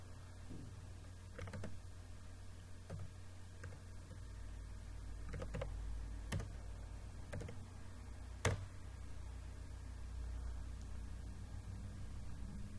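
Faint, sparse keystrokes on a computer keyboard typing terminal commands, scattered soft clicks with a louder tap near the end, over a low steady room hum.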